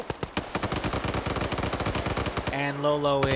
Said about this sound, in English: Will Demovar come around after hearing that gunfire?